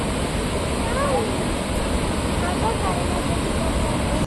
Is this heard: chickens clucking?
no